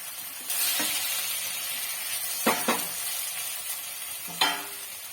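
Curry leaves and vegetables hiss and sizzle in a hot pan for a banana-flower and tuber cutlet, with a steady frying crackle and a few sharp clinks of a stirring spoon against the pan.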